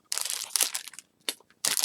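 Plastic bags from an AliExpress haul crinkle and crunch loudly and close up as they are opened, in several bursts separated by brief pauses.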